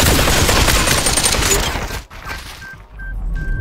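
Gunfire in a first-person shooter video game comes as a dense, loud barrage of shots for about two seconds, then drops away, leaving quieter crackles and a few faint electronic beeps.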